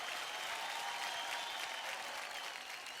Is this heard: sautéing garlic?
no